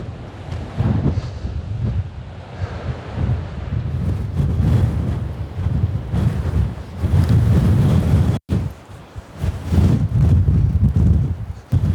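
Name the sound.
wind on a windswept beach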